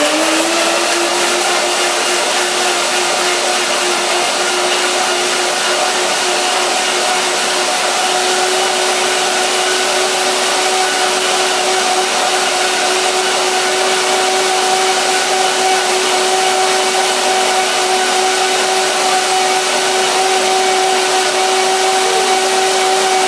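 A blender runs at a steady high whir, blending leek and cauliflower rice for a raw vegan dish; loud, close and continuous with no pauses.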